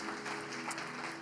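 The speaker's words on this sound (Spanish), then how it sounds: "¿Qué tal si le damos un aplauso al Señor," A church congregation applauds, with dense, continuous clapping from many hands filling a hall at moderate distance; brief and fairly soft.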